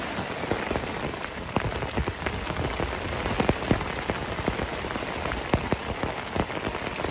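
Steady rain drums on a tent along the Appalachian Trail in the Smokies on a wet April day, a dense patter of close, individual drops over a constant hiss, with no voices.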